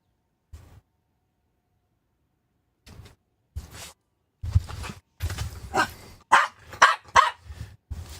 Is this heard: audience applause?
no